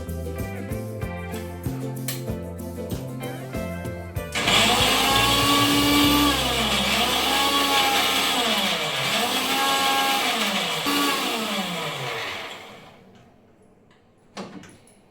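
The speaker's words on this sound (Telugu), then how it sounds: "దీన్ని ఇప్పుడు మిక్సీ తిప్పేస్తాం" A mixer grinder blends pomegranate pieces with their peel and some water, its motor roaring loudly and steadily for about eight seconds with a pulsing, wavering pitch, then winding down to silence.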